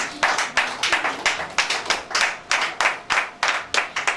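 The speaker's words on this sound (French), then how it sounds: "Acclamons pour la parole de Dieu." A church congregation claps together in a steady rhythmic beat, with each loud, close round of hand claps repeating about every third of a second and no pause.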